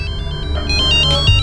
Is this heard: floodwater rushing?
no